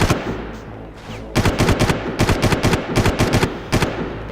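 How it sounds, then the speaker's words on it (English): Minigun fire in the video game Far Cry: loud, close, rapid bursts of automatic gunshots follow a short quieter stretch, with several hard repeated bangs running to the end and no talking. "There's a person on the end of the deck with a minigun"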